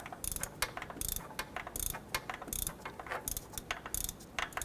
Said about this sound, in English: use our ratchet and go ahead and snug that down